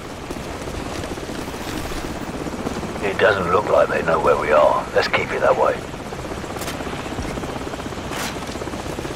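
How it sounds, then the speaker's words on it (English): A helicopter in Call of Duty 4: Modern Warfare drones steadily with a rhythmic rotor thrum throughout, while a voice speaks briefly over it in the middle. "Hold on, the helicopter's back."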